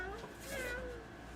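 A small child imitates a cat's meow, a short rising-and-falling vocal mew lasting about a second, close and fairly quiet with light room noise.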